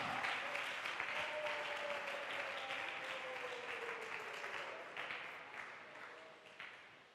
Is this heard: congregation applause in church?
yes